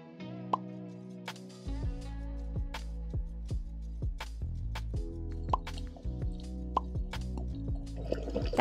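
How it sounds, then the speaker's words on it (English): Underwater on a coral reef in the British Virgin Islands, reef life makes scattered crackling snaps and sharp pops, close and irregular, over a low, droning underwater rumble. "That crackly sound you hear are sounds of life in the water."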